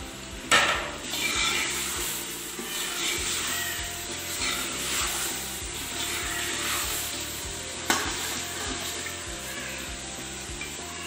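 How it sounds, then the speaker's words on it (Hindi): Chicken frying in masala, a loud, close, continuous sizzle with rhythmic stirring scrapes and a couple of sharp knocks of a spoon against the pot. "अब हम इसमें ऐड करेंगे चिकन और उसे पाँच से सात मिनट तक अच्छे से भून लेंगे"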